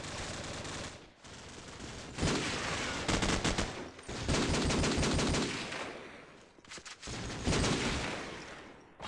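An MG machine gun rattles in Call of Duty 4, with long loud sustained automatic bursts broken by short pauses and a few scattered shorter volleys.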